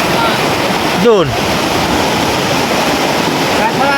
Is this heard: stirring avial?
no